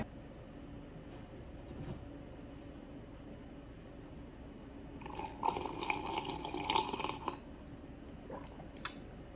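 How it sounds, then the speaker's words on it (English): Tap water runs into a mug at night, a faint steady hiss that swells louder and brighter midway as the flow hits the mug, then eases off with a few small clinks near the end. "This is just water."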